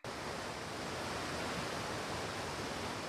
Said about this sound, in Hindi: अरे बाप रे, नदी में पानी कितनी तेजी से बढ़ रहा है।